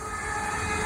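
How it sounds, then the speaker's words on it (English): A brief moment of a train passing on the West Coast Main Line at Atherstone, a steady rumbling rush of rail wheels at moderate volume. "The next train passed by."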